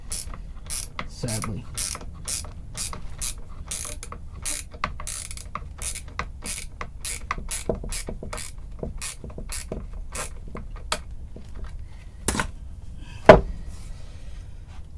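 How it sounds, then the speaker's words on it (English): Strap buttons screwed into a guitar body with a ratcheting screwdriver give a long series of sharp, evenly spaced clicks, close and crisp, with a few louder knocks near the end. "it's the only way that I can screw this in"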